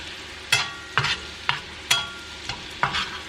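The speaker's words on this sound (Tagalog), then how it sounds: "Hinintay ko lang ma-brown yung garlic kasi lalagay ko na yung prawns." Garlic and prawns frying in a pan, with about six quick, evenly spaced scraping stir strokes rasping over a low background sizzle; no one speaks.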